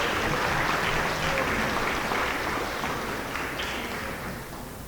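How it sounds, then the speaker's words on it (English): Applause from the audience at a 2021 junior high school awards program, a sustained wash of many hands clapping at once that holds steady and then slowly fades, with no talking over it. "So a round of applause for those students."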